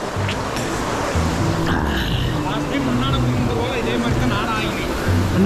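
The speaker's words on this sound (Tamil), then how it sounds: "இந்த அருமையான குட்டி அருவிக்கு ஒரு நன்றி" Small natural waterfall pouring into a rock pool, a steady close rushing wash of water filling the whole stretch, with someone speaking briefly over it.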